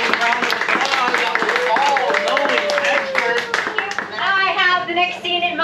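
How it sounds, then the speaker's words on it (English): Audience applause at an improv comedy show, a dense, steady clapping from the crowd across the whole stretch, with cheering and voices mixed in. "Give a round of applause."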